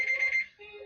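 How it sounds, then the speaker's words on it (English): A phone alarm rings in a quick, steady run of bright electronic beeps, then drops to a softer, lower tone for the rest of the brief burst. Nobody speaks over it. "That was my phone's alarm for don't make a dumb joke."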